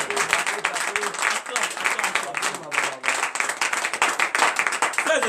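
A church congregation at a morning prayer service in Comè, Benin claps hard and in bursts. The dense rhythmic clapping runs throughout while a voice speaks over it.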